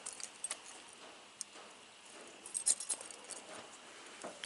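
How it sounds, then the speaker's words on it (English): A large bunch of keys jangles near an off-road riding mower, with scattered light metallic clinks and rattles, sharper bursts toward the end, quiet and alone with no talking. "Got so many daggum keys."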